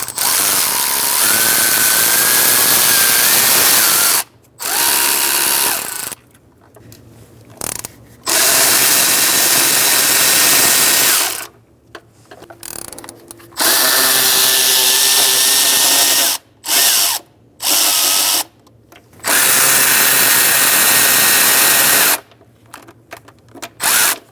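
Power tool with a thin-walled 12mm socket loosening engine bolts during knock sensor replacement on a 2010-2013 Kia Soul 2.0L L4, running in several loud, sustained bursts separated by brief pauses and small clicks.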